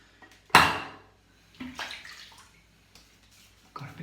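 A Gillette King C double-edge razor is dropped into hot water to soak, giving a loud close splash and clatter against a basin, then softer sloshing and a few small knocks and drips.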